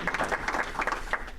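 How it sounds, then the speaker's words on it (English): Applause from an audience at a Rotary club meeting, honoring members' anniversaries. It is a short, steady burst of many hands clapping and sounds moderately close. "Nice round of applause for them."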